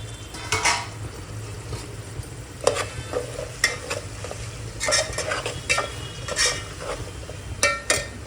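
Mixed vegetables for veg pulao are stirred in a hot pan, with a spoon scraping and clinking against the metal over a soft sizzle, in irregular bursts close by and without talk.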